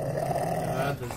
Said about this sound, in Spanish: ¡Hay perros! Y perros de todo tipo.